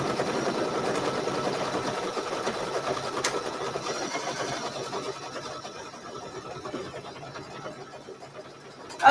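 An embroidery machine stitching a placement line for a quilt appliqué hums and chatters in a quick, steady rhythm, close and fairly quiet, with one sharp click near the start and a louder knock at the very end.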